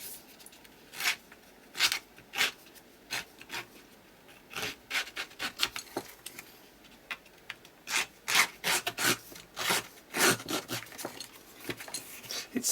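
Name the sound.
lightly scuffing a craft project surface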